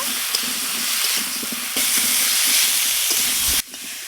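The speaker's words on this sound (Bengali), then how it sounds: "এবার এই আলুটা হালকা একটু ভেজে নেব" Cut potatoes fry lightly in hot oil with salt and turmeric for a fish curry. The sizzle is loud, close and broadband, with a few scrapes, and it cuts off abruptly near the end.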